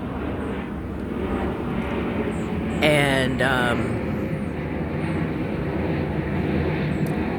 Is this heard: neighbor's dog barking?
no